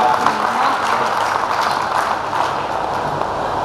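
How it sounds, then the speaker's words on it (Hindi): A crowd applauds for a poet at a Hindi poetry gathering at the Meerut Nauchandi fair, a dense, steady wash of clapping that holds evenly loud for the whole stretch without pause. "मैं चाहता हूँ इसके लिए एक बार सदन तालियां"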